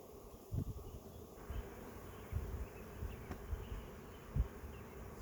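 Honey bees from newly installed packages buzz softly around an open hive, a low continuous hum with occasional closer passes, with faint thumps of frames being handled.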